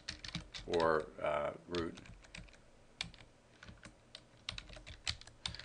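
Close keyboard clicks come from typing a Linux install command on a computer running CentOS 6.4, a rapid patter of keystrokes under a man's speech.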